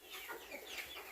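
Large hens on a Bangladeshi poultry farm cluck softly and continuously, a low, busy murmur of fowl close by with no one speaking.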